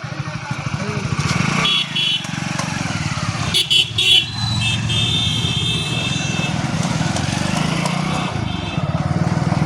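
A motorcycle engine runs loud and close, a steady rough drone that drops off briefly and then picks up again as the bike moves away on a rural road.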